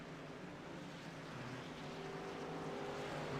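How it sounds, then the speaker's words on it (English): A race truck in the iRacing sim, run at The Glen, gives a faint, steady drone with a harsh blowing tone as it drives off, and no voices sound over it. "It sounds like an engine blowing"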